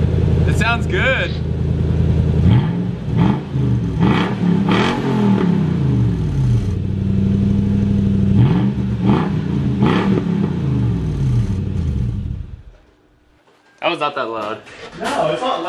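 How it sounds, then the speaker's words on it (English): A V8 Toyota 4Runner engine with its muffler deleted revs repeatedly in rising, roaring bursts with rough low rumble, people talking over it, then it cuts out abruptly near the end. "You should start your car up."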